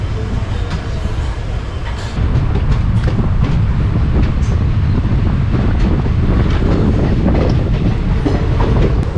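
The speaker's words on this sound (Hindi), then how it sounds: "चलिए मैं आपको इस ट्रेन के यहाँ से डिपार्चर दिखाता हूँ।" The Shaktipunj Express pulls away from a station, a loud steady rumble of rolling carriages with rhythmic clickety-clack of wheels over rail joints and buffeting wind noise, heard from on board.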